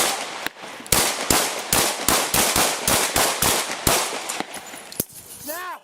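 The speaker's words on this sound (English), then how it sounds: "lo que obligó a dos policías a disparar" Two police officers open fire on an armed suspect during a chase: a rapid volley of loud, close gunshots in uneven bursts, about a dozen cracks over several seconds, with a brief tonal chirp at the end.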